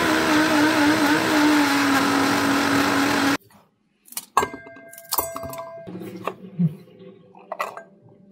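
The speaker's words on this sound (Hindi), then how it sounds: "आपने एक छोटी सी प्याज लेनी है और ब्लेंडर में डाल के उसकी भी प्यूरी बना लेनी है" An electric blender whirs loudly and steadily as it purees a small onion, then cuts off abruptly. Scattered clinks and knocks of glass and utensils follow.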